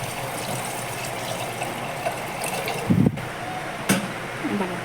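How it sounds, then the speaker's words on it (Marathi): Water is poured into a pan of roasted peas and spices for homemade Mumbai-style misal, a close, continuous gushing splash with a couple of brief louder bursts near the end. "आता पाणी टाकूया."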